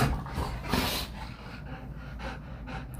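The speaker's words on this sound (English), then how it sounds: "Oh, mean vicious killer dogs." Two dogs play close by, panting heavily with quick rhythmic breaths, snorts and scuffling bursts, and no voices are heard.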